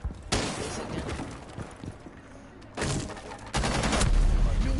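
Loud, close bursts of automatic gunfire in Rainbow Six Siege, coming as two or three sharp volleys with brief gaps and a crackling impact at the end, plus faint voices in the background.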